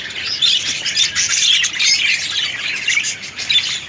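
Budgies chirp and squawk continuously in a busy breeding setup, their dense, high twittering calls overlapping steadily and fairly close throughout, with no talking.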